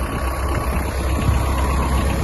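A Japanese Kubota X-20 mini tractor's engine idles steadily just before being shut off, a close, even, low rumble with a constant mechanical hum and no voices.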